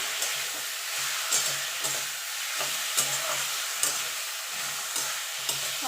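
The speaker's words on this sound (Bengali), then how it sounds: "এবার ভালো করে মিশিয়ে নেবো" Cooked bathua greens are stirred and mixed in a pan with a spatula, giving regular scraping strokes over a steady close sizzle, with no voices.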